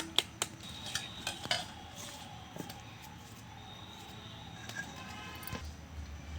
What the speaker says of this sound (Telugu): ఇలా చక్కెర కరిగేంత వరకు ఇందులో ఇలా కలుపుకోవాలి.